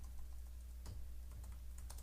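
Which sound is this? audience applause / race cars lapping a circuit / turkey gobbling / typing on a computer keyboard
typing on a computer keyboard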